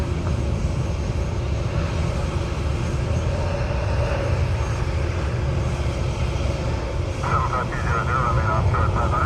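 Southwest airliner taking off from runway 10 left: a loud, steady jet roar rumbling throughout, with air traffic control radio chatter heard over it.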